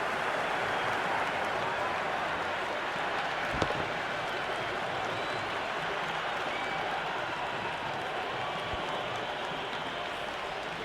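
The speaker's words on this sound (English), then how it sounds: "There's an almost tangible fervour throughout the crowd at the moment." Dense, steady crowd roar at a T20 World Cup cricket match between India and West Indies, a continuous wash of cheering and applause with no breaks, loud and even throughout.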